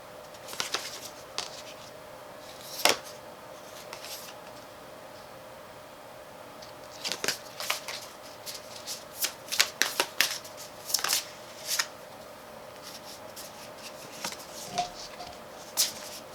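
Tarot cards are shuffled by hand in a quiet room: soft, scattered riffles and flicks come in irregular clusters, faint and close, with light slaps against a low steady hum and no talking.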